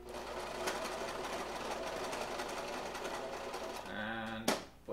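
A sewing machine stitches fabric in a fast steady mechanical whir with rapid needle ticks, close and alone, then slows and stops with a brief clunk near the end.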